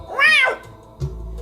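A single close, clear cat meow rises and falls, followed by a short soft thud and quiet room tone.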